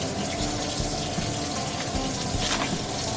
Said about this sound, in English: So I'm just washing everything and getting it in here.